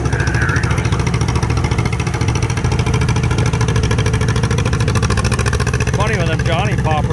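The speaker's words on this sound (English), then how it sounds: "Funny with them Johnny Poppers, they start pulling, they just stay right at that same speed." John Deere two-cylinder Johnny Popper antique tractor pulls at an outdoor tractor pull, its engine chugging in a steady, even loud beat at constant speed, with an announcer talking over it.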